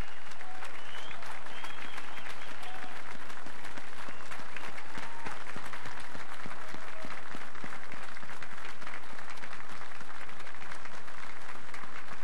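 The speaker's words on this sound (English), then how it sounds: "please give them a round of applause and recognition" A large audience at the commissioning ceremony of the destroyer USS Thomas Hudner gives loud, sustained applause, a dense unbroken roar of clapping that holds steady for its whole length.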